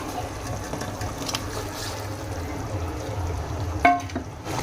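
Egg curry gravy with fried eggs simmers in a pan, giving a steady, soft bubbling and sizzling hiss that runs throughout, with a brief sharp clink near the end.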